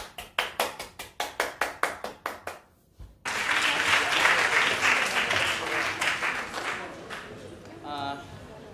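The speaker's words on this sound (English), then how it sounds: "Please give him a round of applause." Audience applause for an instructor introduced at a symposium: a few seconds of separate close claps, a brief pause, then a dense, sustained round of clapping that slowly fades.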